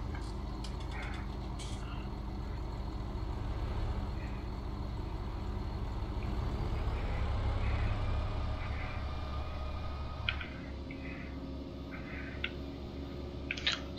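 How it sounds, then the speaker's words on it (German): Truck driving past in Landwirtschafts-Simulator 19, a low diesel engine rumble that swells and then recedes, with an air-brake hiss and light beeps and clanks over steady game ambience. "Nach dem LKW können wir rausfahren."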